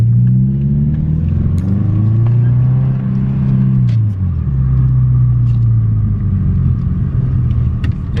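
A 2.5 RS Subaru Impreza engine with its muffler deleted gives a loud, close, steady exhaust drone with rising and falling rev sweeps, idling and blipping throughout.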